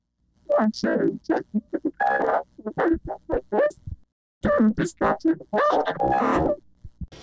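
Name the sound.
voice processed through a vocoder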